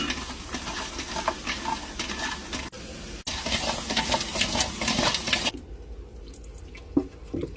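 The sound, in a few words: pigeons cooking in a pot over high heat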